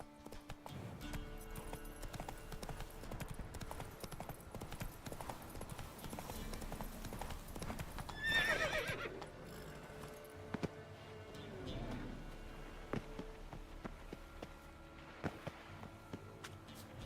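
A game horse's hooves clip-clop steadily at a gallop in The Witcher 3, and a brief neigh rises midway, all over a quiet in-game ambience.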